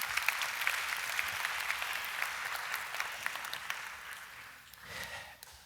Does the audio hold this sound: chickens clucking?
no